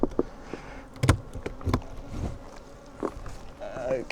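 Honey bees buzz inside a large, full hive, a close, uneven hum with sharp knocks and handling noises from the hive boxes scattered across a few seconds.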